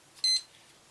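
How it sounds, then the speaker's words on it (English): A darkroom timer stopwatch gives one short, high electronic beep as it is started, alone and fairly clear against a quiet room. "I dip the film in while I start the stopwatch"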